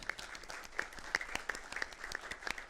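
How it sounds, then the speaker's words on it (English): Audience applause at a Downey city council meeting, a scattered, moderately faint patter of clapping hands with sharper individual claps standing out, without talk. "So if you can please give them a round of applause for that."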